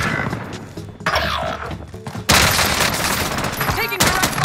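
Heavy gunfire from a Call of Duty Warzone match on Rebirth Island, with loud bursts and volleys that grow denser and more chaotic toward the end, mixed with game effects and a game announcer voice.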